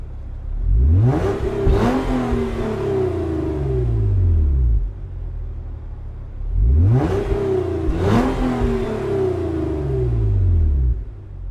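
Toyota Alphard Executive Lounge engine in Gran Turismo 7, two loud revving bursts that climb and fall with gear changes, separated by a quieter steady idle drone.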